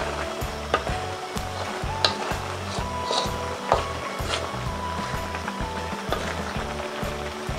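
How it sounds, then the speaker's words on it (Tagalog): Squid adobo with spring onion simmers in coconut milk and is stirred, producing a continuous close sizzle with rhythmic scraping strokes from the stirring, and no talking. "Pwede na po nating ilagay ang ating spring onion. Yan. Hahaluin natin."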